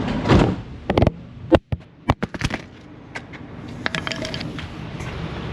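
The side door of a bent, damaged van being converted from a minivan clunks and rattles open with a series of sharp metallic knocks and scrapes, followed by quieter clattering.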